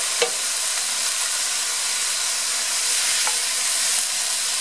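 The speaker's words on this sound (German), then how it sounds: "Ein wenig Bier rein." Beer poured into a hot Dutch oven while cooking cabbage rolls sets off a steady, close sizzle and hiss that continues unbroken, with a faint stirring clink near the start.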